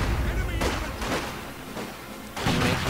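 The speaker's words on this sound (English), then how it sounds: "Making use of that heavy mortar." A heavy mortar firing in Company of Heroes 2, with several booming thuds spaced across a dense battlefield din and a commentator's voice talking over it.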